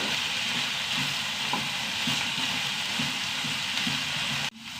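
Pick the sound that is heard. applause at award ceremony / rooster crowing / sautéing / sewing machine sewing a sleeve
sautéing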